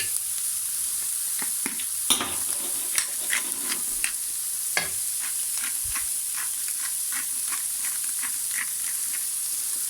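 Green and white onions frying in a pan on lowered heat, a continuous soft sizzle and hiss with scattered spatula scrapes and pops, close and unaccompanied by talk.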